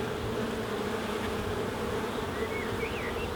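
Dense, steady drone of many honey bees at an open hive during a UK swarm-prevention inspection, continuous and close, filling the whole stretch without pause or talk.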